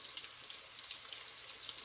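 Green tomato slices coated in self-rising cornmeal frying in hot grease in a skillet, giving a steady, dense sizzle and crackle throughout with no talking.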